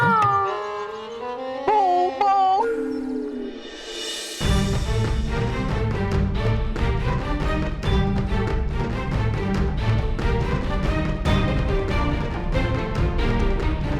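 A dog howls and whimpers in a fantasy TV drama, with drawn-out, wavering howls heard alone for a few seconds before loud background music swamps them.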